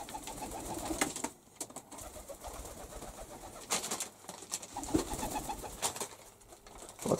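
Pigeons coo softly inside an outdoor dovecote in the early morning, with scattered wing flaps and shuffling noises among the low calls.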